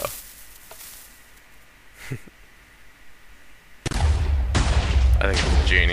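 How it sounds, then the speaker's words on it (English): Minecraft firework cannons firing, a few faint pops and a thump at first, then a sudden loud blast followed by sustained crackling and booming explosions, with talk audible under the early part. "this is effectively just two well-timed firework cannon"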